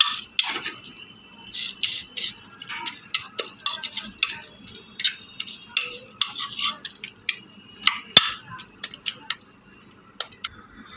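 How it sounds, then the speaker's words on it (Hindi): A spoon whisks and beats litti chokha mixture in a bowl, making rapid clicking, tapping strikes against the vessel in a steady irregular rhythm, close and fairly bright, with one sharper knock near the end. "अब इसको हम फेंटेंगे ताकि ये मिक्स हो जाए।"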